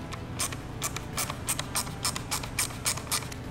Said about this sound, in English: We're gonna set our right hand side marker in, T25 screws back in.